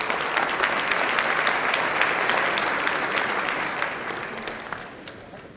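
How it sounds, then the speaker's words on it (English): A banquet audience at a 2015 annual banquet applauds in a dense, sustained burst of clapping that holds steady and then gradually tapers off, loud and close, with no one talking over it. "Can we please give another round of applause for Chris Shetty of the Green Hill School?"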